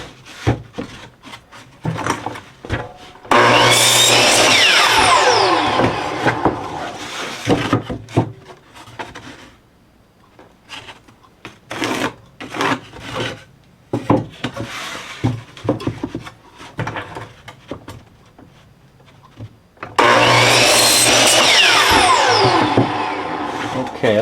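Wooden fence picket boards are cut to length with a saw, making two long, loud, whining cuts. Between them come clattering knocks and scrapes as the boards are handled.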